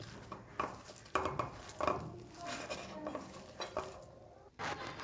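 Onion pakora batter being stirred by hand in a bowl as water is added little by little, soft irregular scraping and sloshing strokes, quiet and close, with no talking.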